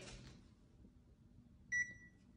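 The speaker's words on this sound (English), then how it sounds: "Under the counter microwave." An under-counter microwave in a newly renovated commercial-style home kitchen is opened, with a soft low rumble of handling followed by a short, loud, clear electronic beep near the end.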